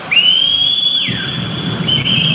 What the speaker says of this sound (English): as the whistle goes